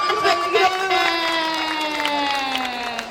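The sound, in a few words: audience clapping and cheering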